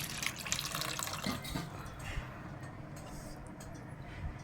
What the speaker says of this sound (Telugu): దానిలో కూడా పులుసు పోస్తున్నాను.